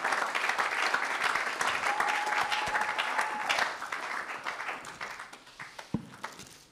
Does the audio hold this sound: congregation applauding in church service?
yes